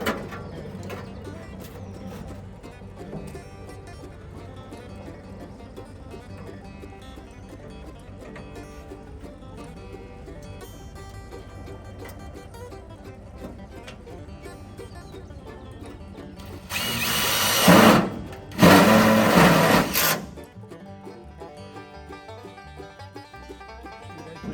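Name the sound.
driving self-tapping screws into a battery box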